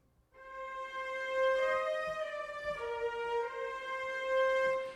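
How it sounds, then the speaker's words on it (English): Sampled violas from the Strezov Sampling Afflatus strings library play with sordino mutes, producing soft, veiled sustained notes that shift pitch as the chord moves, with no other sounds. "Here's the sound of the sordino on the violas."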